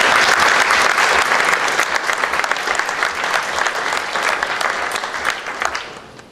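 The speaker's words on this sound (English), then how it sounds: "So a round of applause, please." Conference audience at a game developers' keynote gives a loud round of applause, dense clapping that stays steady and then tapers off toward the end.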